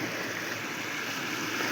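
A river stream rushes where two mountain streams meet, a steady broadband wash of flowing water heard close and continuous with no voices.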